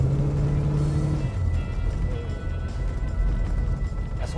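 A car engine runs with a low, steady drone, its pitch dropping and settling partway through, close and continuous throughout without talk over it.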